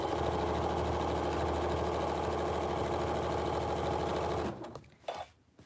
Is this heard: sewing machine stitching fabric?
yes